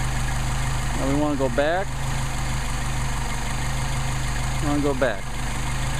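Mercedes 190SL engine on Solex carburetors idling on a test setup, a steady low rumble throughout with someone talking over it.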